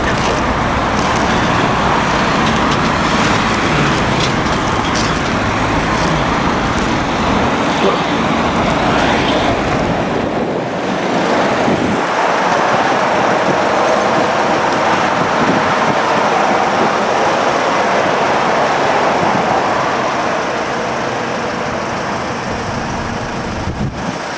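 Heavy traffic on a busy main road near a church, with a dense continuous roar of passing cars and buses, loud and close, with wind buffeting the microphone.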